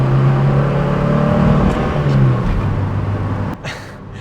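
A 1977 BMW 320i four-cylinder with a four-speed gearbox accelerates hard, its engine drone rising steadily in pitch while loud and close from inside, then easing off near the end.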